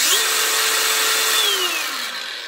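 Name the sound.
DeWalt DCG 405N 18V cordless angle grinder running at no-load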